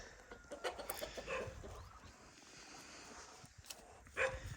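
Quiet clucking from chickens mixes with scattered short calls and a dog's bark, faint and somewhat distant outdoors.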